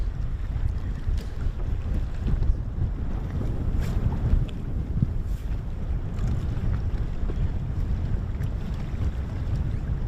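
Steady low wind rumble buffets an outdoor microphone at a bass fishing tournament for the full stretch, with gusty surges and a faint watery wash beneath.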